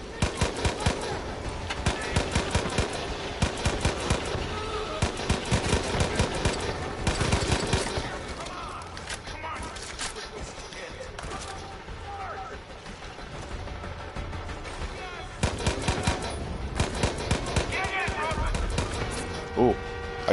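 Semi-automatic rifle shots in Far Cry 5, sharp repeated cracks in irregular clusters with a lull in the middle before more shooting resumes, while a person talks over the gameplay.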